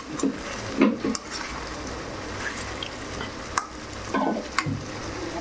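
Thick tomato thokku stirred in a pan, wet bubbling sizzle with periodic scraping and sloshing strokes of the spatula, close up, a few soft clicks against the pan.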